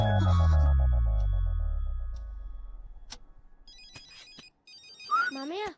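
A phone ringtone trills in a repeating electronic pattern, rising into chirpy melodic tones toward the end, heard over a low rumbling hum that fades early on.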